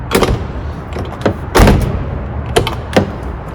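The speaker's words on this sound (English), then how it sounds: "Love the sound of these doors." Doors of a 1987 BMW 325is, cardinal red, are opened and closed in a series of sharp thumps and latch clicks, loud and close, several in quick succession with no talk.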